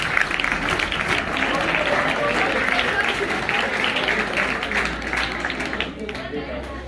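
Students at a school math day quiz break into lively applause and cheering, a dense burst of clapping mixed with crowd chatter that tapers off toward the end.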